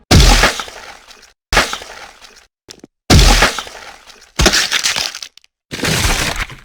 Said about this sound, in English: this is the first result on YouTube when you type free blood FX sound